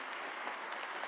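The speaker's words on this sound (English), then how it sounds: "Another round of applause for her," Audience applause at a memorial service fills the hall, a steady wash of many hands clapping at moderate distance, with no voices over it.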